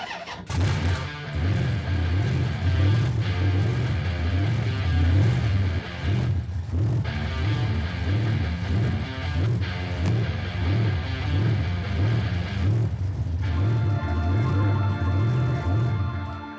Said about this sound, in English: The car is very noisy and it's really big engine. It's an Oldsmobile engine.